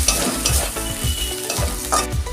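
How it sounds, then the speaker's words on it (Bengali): A ginger-garlic spice paste sizzles loudly in a pan as a spoon stirs it in steady, scraping strokes, close up with no voices. "মশলাটা ভাজা হয়ে গেছে এবার টমেটো দিয়ে"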